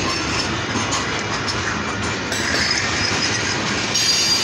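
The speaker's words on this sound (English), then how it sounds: "Like passenger trains even come through here." A train passes along a railway, a loud, steady roar of rolling wagons with rhythmic wheel clatter and faint squeals, sustained and close throughout.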